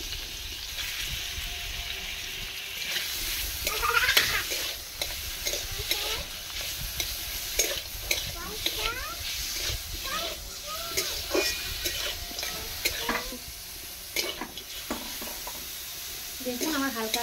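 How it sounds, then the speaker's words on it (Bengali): Chicken meat fries lightly in white oil in a wok, giving a steady close sizzle with stirring scrapes and clatter throughout, while a voice talks over it. "এই তেলের উপর আমি কিছুটা মাংস ভেজে নেব হালকা করে।"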